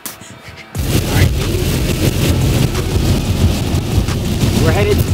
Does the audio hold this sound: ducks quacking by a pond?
no